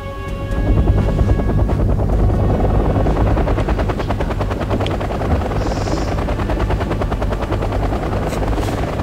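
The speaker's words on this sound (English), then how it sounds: "Helicopters fly really derpy in this game." Helicopters in Wargame European Escalation thunder with a loud, continuous rotor chop that starts abruptly and holds steady, with faint scattered gunfire mixed in.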